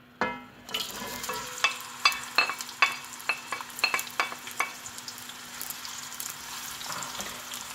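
Onions frying in about one and a half cups of oil for a fish curry, a steady sizzle punctuated by a series of sharp spoon-against-pan stirring clicks, close and distinct, with no talk.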